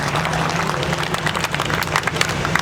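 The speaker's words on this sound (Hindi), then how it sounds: "एक बार जोरदार तालियां बजा के स्वागत करो।" Enthusiastic audience clapping at a college Holi celebration in Rohini, Delhi, a dense, uneven crowd applause with scattered sharp claps, loud and continuous.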